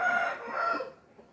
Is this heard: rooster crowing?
yes